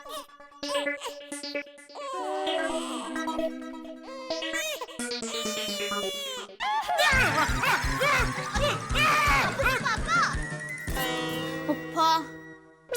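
Dogs bark and yip in a loud, tonal burst, with whimpering, high-pitched yelps and overlapping calls that build into a dense chorus in the second half, sounding close and agitated.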